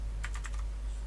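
A computer keyboard being typed on in a quick burst of about five crisp keystrokes, clear and close with a steady low hum underneath, while a command is entered into the Windows Run box.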